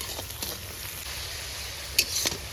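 Onions frying in a pan give a steady, close sizzle throughout, with a short clink of a utensil near the end.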